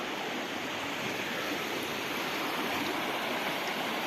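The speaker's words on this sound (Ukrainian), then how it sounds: "Гірський потік, чиста джерельна вода." Mountain stream, the Luzhanka river in the Carpathians, rushing steadily over rocks as a dense, continuous broadband wash of water, close and even throughout with no voices.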